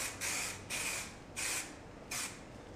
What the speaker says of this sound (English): Simply, as being an aerosol form, it's going to simply spray it over your countertop.